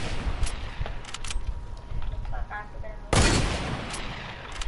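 A hunting rifle fires in a video game: one sharp, loud shot cracks out partway through over steady in-game background noise and smaller pops.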